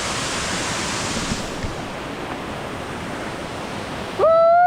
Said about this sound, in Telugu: వాటర్ఫాల్ దగ్గరికి వచ్చేసాం.